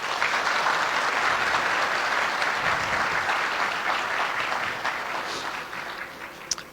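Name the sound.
audience applause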